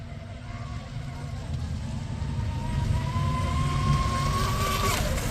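An RC boat, the TFL Cheetah fitted with new props and a bent rudder, runs on a lake with a steady, moderately loud motor whine that climbs in pitch near the end, over wind and water noise.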